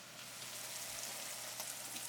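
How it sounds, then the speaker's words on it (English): Steady crackling sizzle of Canadian bacon frying in a pan, a continuous hiss at moderate level with no voices. "Frying up my Canadian bacon."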